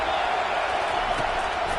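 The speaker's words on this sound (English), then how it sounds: "this crowd is tearing the lid off this place" Home crowd roaring at a college football game in the College Football 25 video game, a dense continuous wall of cheering with no breaks, loud and close.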